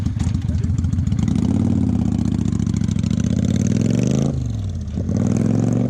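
A Kawasaki VN800 motorcycle engine runs loud and close, a throbbing low idle that swells with throttle blips before dipping and picking up again.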